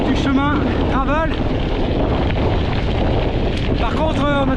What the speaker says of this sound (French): Par contre on a toujours le vent bien de face là.